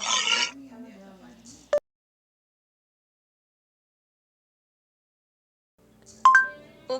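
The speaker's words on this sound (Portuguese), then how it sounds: "Este é o som de uma morsa." A walrus makes a single low, rough, grunting vocalization lasting over a second and ending in a sharp click. A long silence follows, then a short electronic chime.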